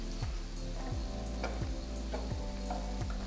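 Ginger garlic paste frying in oil with golden browned onions, a steady close sizzle punctuated by rhythmic spoon scrapes against the pan about every half second.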